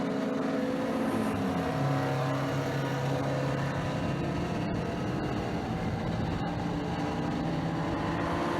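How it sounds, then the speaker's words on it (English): Porsche V8-powered race car heard from on board during a ChumpCar endurance race at Watkins Glen, its engine droning loud and continuous with shifting pitch and a couple of brief clicks. "On board with Team Punisher here in that Porsche V8 powered machine"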